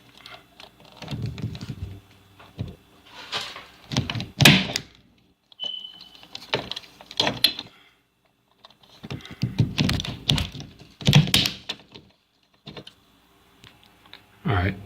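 A punch-down tool seating cat6 wire into keystone terminals, giving repeated close clicks and thunks in clusters separated by short pauses.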